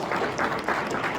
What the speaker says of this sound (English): Can we get a round of applause for the panelists,